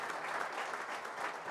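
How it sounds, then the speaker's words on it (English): An audience at a corporate event applauds after an onstage conversation, a brief, dense burst of many hands clapping at moderate volume with no voices over it. "a round of applause for this wonderful conversation"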